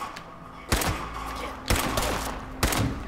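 Three sharp gunshot bursts from Fallout 76 boom out at steady intervals about a second apart, each with a hard attack and a short rumbling tail, over a constant low game hum.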